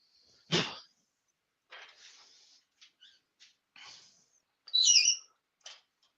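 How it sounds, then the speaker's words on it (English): A pet bird chirps and tweets in a kitchen, a few short, bright, scattered calls and one longer warbling trill, fairly close, with near silence between them and no talk. "No, that's my bird. That's tweeting."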